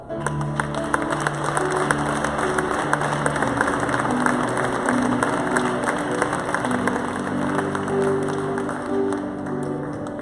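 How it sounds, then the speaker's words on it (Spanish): An audience at an equestrian gala in Galicia claps steadily for about ten seconds, a dense, even patter of many hands with some voices and tones mixed in. "un aplauso para ellos"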